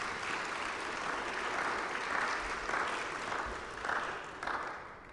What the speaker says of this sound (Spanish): Un aplauso para nuestros hermanos que están visitándonos.